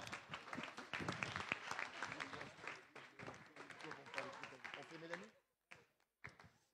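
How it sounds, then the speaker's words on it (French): Applause and cheering for the race award winners at the Urban Trail Chaumont 2021 ceremony, a crowd clapping loudly, dense and steady, then thinning into a few scattered claps. "On les applaudit bien fort."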